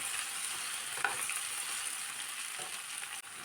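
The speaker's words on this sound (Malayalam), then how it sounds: "ഇനി ഈ വെജിറ്റബിൾസ് എല്ലാം ഒന്ന് വാടി വരുന്നിടം വരെ വഴറ്റിയെടുക്കാം" Mixed vegetables sauté in a pan for a vegetable biryani made with ration rice, giving a steady, close sizzle with a faint stir or scrape near the one-second mark and no talking.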